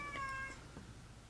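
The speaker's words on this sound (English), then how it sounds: "listening to my cat meow." A short, fairly quiet cat meow, a single rising call that fades out quickly.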